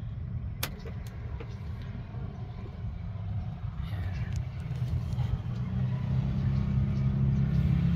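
A Rusi Caruza 200i fuel-injected scooter engine is started and left running, a low steady idle rumble that grows slightly louder over the seconds, with a click near the start and faint background voices.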